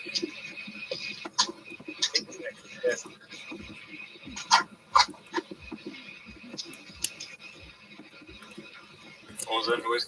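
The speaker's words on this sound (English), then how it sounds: "Where's that noise coming from? My dog." A dog barks in scattered, fairly faint bursts from some distance, mixed with soft background voices and small tapping noises in a quiet indoor room.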